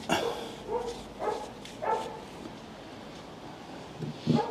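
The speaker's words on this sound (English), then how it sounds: "Sorry about the dog in the background." A dog barks outdoors during a Land Rover Series 3 restoration, a few separate woofs spaced about a second apart, moderately close, over steady wind noise on the microphone.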